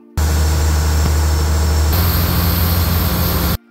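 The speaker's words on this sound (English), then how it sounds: "Now you'll be roaring across the riverbeds with these huge engines behind you." A boat's huge engines roar steadily as it speeds across Cheow Lan Lake in Thailand, a loud, close, continuous drone that starts abruptly, shifts slightly midway and cuts off after about three seconds.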